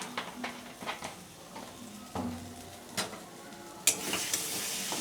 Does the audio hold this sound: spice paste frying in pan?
yes